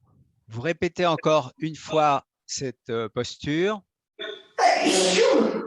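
A single sharp, loud sneeze bursts out near the end, after someone speaks in French during a yoga session.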